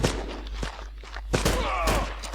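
Gunfire in the video game Terrorist Takedown: War in Colombia crackles in a dense burst with several sharp shots over a steady low hum, with faint movement noises in between.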